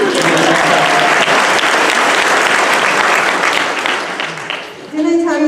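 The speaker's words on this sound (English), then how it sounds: "Applause for Judy for doing this mic." Applause from an audience at a gun-control rally as a speaker finishes, a dense, sustained wash of many hands clapping at full loudness for about five seconds before fading, with a voice starting to speak at the end.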